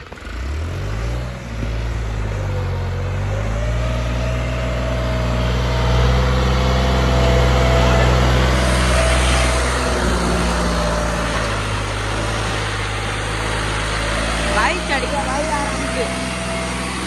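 A 1991 Eicher tractor climbing a slope, its diesel engine chugging loud and close with a steady low drone that strains and rises as it pulls uphill.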